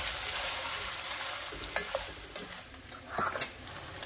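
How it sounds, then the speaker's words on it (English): Beef and onions sautéing and browning together in a pan for Tex-Mex carne guisada: a steady bright sizzle with intermittent stirring scrapes and pops, growing busier toward the end. "let's add the onions right in the center and continue to saute and brown the meat"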